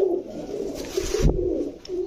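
Large racing pigeons coo in a steady, rolling chorus close by, with a brief burst of rustling or flapping partway through and no voices.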